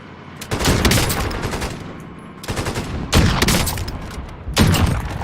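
Rapid bursts of gunfire from the Call of Duty Warzone video game, with an LW3 sniper rifle in play, arrive in three loud, dense volleys separated by brief lulls, with no speech over them.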